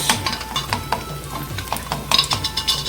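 Onions sizzling in hot oil with fresh ginger-garlic paste for a traditional Telangana curry, steady frying crackle broken by rhythmic scraping stirs of a utensil against the pan, close and fairly loud.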